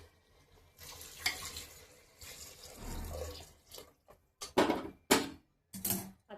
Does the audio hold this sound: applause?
no